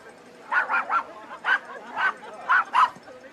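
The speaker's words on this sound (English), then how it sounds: "There's the dog." Dog barking during a women's varsity high school soccer game, a series of sharp barks and yips in uneven bursts, moderately distant over quiet field ambience.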